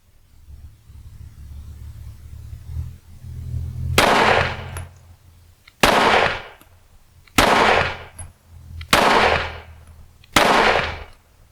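Five sharp gunshots fired one at a time at a steady pace while testing a Cyelee Wolf enclosed red dot optic. Each report is loud and close, with a short decay, and no talk comes between shots.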